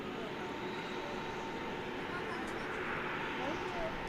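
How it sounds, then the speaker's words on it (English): An American Airlines Airbus A321neo jet bound for Albuquerque passes at Dallas-Fort Worth airport at night. Its distant engine roar is faint and steady, with a thin whine above it, and faint voices may be present. "There's a Airbus A321 Neo."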